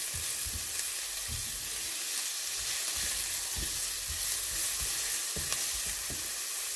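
Onion and carrot fry in a pan with a steady close hiss and sizzle, broken by intermittent low knocks as the pan is stirred.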